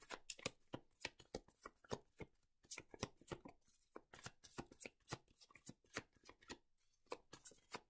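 Tarot and Lenormand cards are shuffled in rapid, irregular riffling bursts, a dense crisp flutter of cards slapping together with only brief pauses, close and fairly quiet with no talk.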